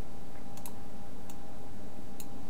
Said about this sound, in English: I'm just going to go ahead and type CSS